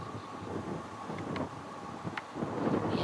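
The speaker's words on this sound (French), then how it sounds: "Il y a du vent, hein, quand même." Steady wind buffeting outdoors on Mont Saint-Baudille, a low rumbling rush with gusts swelling and easing, no voices.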